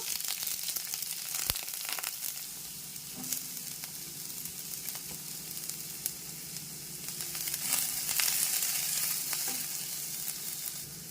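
Finely chopped cabbage fries in hot oil for an omelette, giving a steady, close sizzle and crackle with occasional stirring scrapes and no voices.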